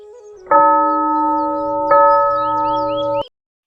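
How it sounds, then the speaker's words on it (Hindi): Temple bells ring out in a village, struck twice about a second and a half apart, each stroke leaving a loud, sustained, shimmering tone that hangs until both cut off together. "हर शाम मंदिर की घंटियां"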